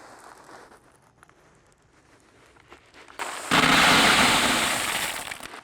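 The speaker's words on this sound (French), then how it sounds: "Je commence donc par installer les billes d'argile." Clay pebbles pour into a flower pot for drainage while planting a herbaceous peony, a sudden loud continuous rattling hiss that starts after a quiet stretch and holds steady before easing slightly.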